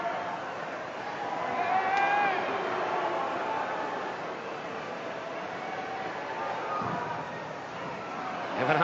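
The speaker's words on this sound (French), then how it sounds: "essuie les huées de la foule." Spectators at a 1956 French professional wrestling match boo and jeer a wrestler, a steady roar of crowd noise running through the whole stretch, with a voice talking over it.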